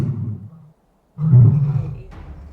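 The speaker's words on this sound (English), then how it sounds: "he was just waiting until there was that perfect silent opportunity for him to just roar on his own" A big, strong male lion roars on its own at a wildlife park, a deep rumbling call that swells after a brief silence and then trails off, loud and close.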